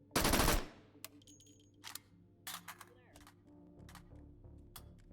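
A Tommy gun with a drum magazine rips off one short, loud burst of automatic fire in the VR shooter H3VR, followed by scattered faint mechanical clicks and handling knocks.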